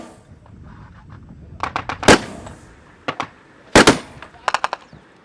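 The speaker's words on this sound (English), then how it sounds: "We've heard a whizzing sound overhead, which is the sound of sniper fire or certainly gunfire coming in from Islamic State" Gunfire during the battle for Mosul cracks out in sharp, loud, irregular shots and short bursts, some clustered in quick rapid-fire groups, with quieter outdoor background between them.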